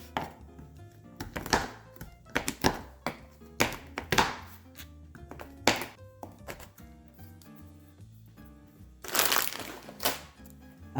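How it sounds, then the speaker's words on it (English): A knife chops unsweetened baking chocolate and sugar-free baking chips on a board, a run of sharp, close, uneven chops with brief pauses, then a quick burst of faster chopping. "So let me go ahead and give this a chop."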